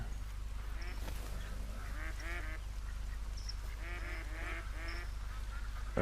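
Ducks and geese on a lake in a hunting video game call out with repeated honks and quacks in scattered bursts, moderately distant, over a steady low ambient hum.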